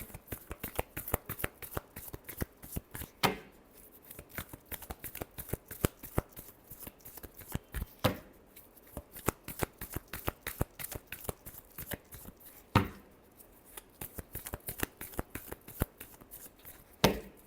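Tarot cards shuffled by hand at close range, a long continuous run of crisp riffling flutters and slaps with occasional louder card-edge snaps, no voices over it.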